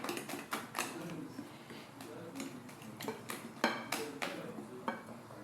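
Plantain cake batter being mixed with curry powder in a bowl: quick irregular clinks and scrapes of a utensil against the bowl, close and fairly quiet, with no speech.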